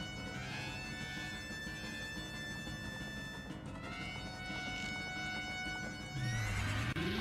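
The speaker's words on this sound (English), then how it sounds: "Fortunately, I was able to destroy his horse" Phantom Ganon's horse from the video game Ocarina of Time neighs amid dense game music and battle sounds, with hoof clip-clops mixed in and a sweeping effect rising near the end.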